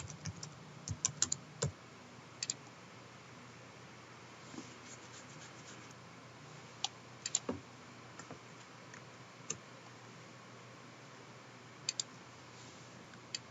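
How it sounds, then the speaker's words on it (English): Typing a short message on a computer keyboard: irregular bursts of crisp key clicks, close and clear, clustered near the start and scattered later, with quiet pauses between groups and no talking. "So we're going to type a little message."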